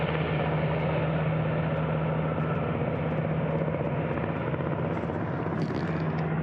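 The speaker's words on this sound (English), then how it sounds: "Helicopter." Helicopter droning steadily over a mountain ridge in Snowdonia, its low engine and rotor hum continuous and fairly loud throughout, with faint wind noise on top.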